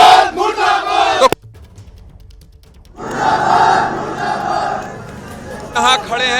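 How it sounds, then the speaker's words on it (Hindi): Protesters in Joshimath chanting 'police go back' slogans, a loud crowd of massed voices rising and falling, with a lull before the chanting swells again and continues steadily. "पुलिस गो बैक के नारे लग रहे हैं"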